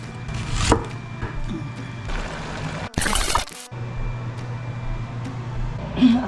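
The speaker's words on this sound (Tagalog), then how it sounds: "Ihiwa tayo ng sibuyas na malalaki at ihalo natin sa taas." Large white onions chopped with a knife on a board, a steady run of close, crisp cuts with a short break, under faint background noise.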